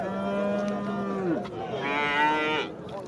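Calves mooing at the Oqdaryo livestock market in Samarkand: two loud, close, drawn-out moos, the second rising and wavering, with no talk over them.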